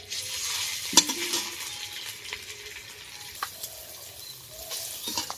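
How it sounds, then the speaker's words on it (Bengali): Soybean paste fries in a pan with a bright, crackling sizzle, and a spoon scrapes and taps against the metal in scattered bursts, close and clear with no voices. "সোয়াবিনটাকে একটু ভেজে নেব সোয়াবিনের পেস্টটা যত ভাজলে এর ছাতটা খুব সুন্দর হয়"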